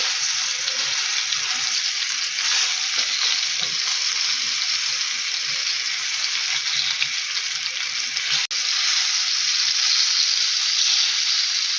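Steady, loud sizzling of fish frying in a hot pan, a continuous crackling hiss throughout with no voices.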